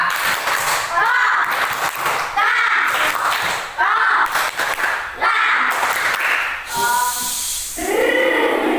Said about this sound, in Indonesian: Kita tepuk Coca-Cola dulu ya